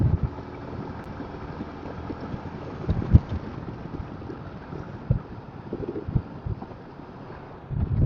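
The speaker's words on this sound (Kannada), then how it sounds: "ಏನ್ ಗಾಳಿ ಹೊಡಿತದ ಗುರು ಲಾರಿ ಪಾಸ್ ಆದ್ರೆ" Strong wind buffets the microphone as a lorry passes a two-wheeler rider on a road, a steady low roar with louder gusts swelling and fading over several seconds, no voices.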